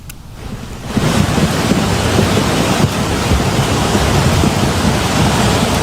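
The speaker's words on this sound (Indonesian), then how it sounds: "Arus air yang membesar terlihat menghanyutkan potongan kayu dan batu-batu berukuran besar." A flash flood torrent in Agam carries wood and large rocks, a loud, continuous roaring rush of water that starts abruptly and stays steady throughout, with no voices.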